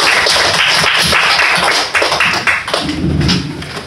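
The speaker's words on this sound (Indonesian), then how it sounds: "kasih aplaus buat temennya" Classroom of students clapping for a classmate, a dense, loud burst of many hands applauding together, thinning slightly toward the end.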